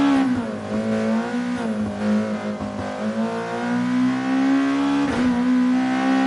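Race car engine in Gran Turismo Sport revving loudly and steadily, a strong harmonic drone that rises and holds with a brief dip near the end, alone without talk.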